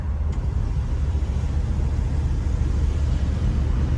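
A car fitted with a new exhaust drives and accelerates, producing a steady, deep, loud rumble that fills the whole stretch without pauses or voices.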